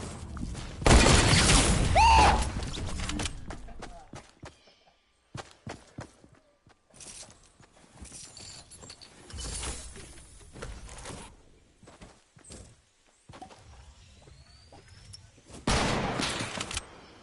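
Gunfire in the video game Fortnite comes in loud bursts near the start and again at the end, separated by scattered shots, footsteps and quieter stretches of game noise.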